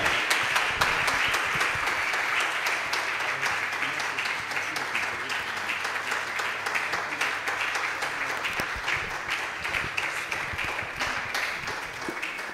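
A church congregation applauds and cheers the pastor in a long, steady wash of clapping that holds loud and even throughout, with scattered voices rising inside it.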